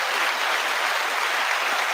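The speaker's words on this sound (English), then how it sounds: "Good long clap for that." A long round of applause from a crowd fills the space, steady and dense throughout with no gaps or voices on top.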